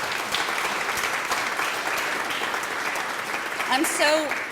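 Audience applause for storytellers at the Speak Up 2023 event, a steady wash of clapping throughout with a voice rising briefly near the end.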